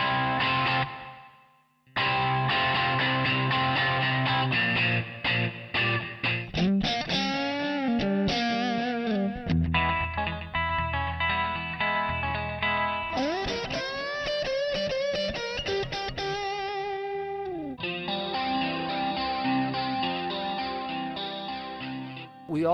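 Electric guitar played through a TC-Helicon VoiceLive 3 processor with reverb, delay, chorus and distortion: distorted chords and melodic runs with shimmering modulated sustain and echoing tails, loud and continuous apart from a brief gap near the start.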